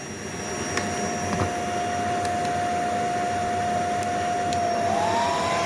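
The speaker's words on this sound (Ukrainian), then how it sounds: "Вмикаємо фен." A steady, loud motorized whir of an 1800 W hair dryer powered by a portable power station runs without pause, with a high whine over a broad airy rush.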